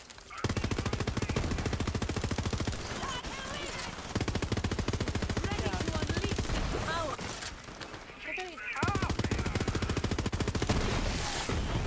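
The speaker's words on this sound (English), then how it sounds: "I'm around here shooting stuff." Rapid automatic gunfire rattles in long, loud bursts during a shooter video game, broken by a few brief pauses, while a player talks over the shooting.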